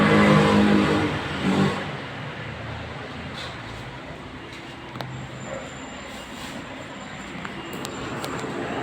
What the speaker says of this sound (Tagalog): So, ito yung aking sasakyan. Pan-deliver namin.